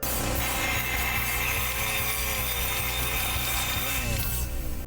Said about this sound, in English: here he is going head to head with a chainsaw